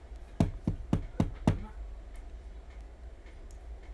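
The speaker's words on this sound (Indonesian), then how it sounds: "ketok-ketok." Knocking on a door, five sharp close knocks in a quick even rhythm followed by a quiet room with faint ticks.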